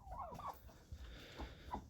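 A turkey on a rural farm gobbles in several short, rattling bursts, close and fairly quiet, with a brief pause between calls.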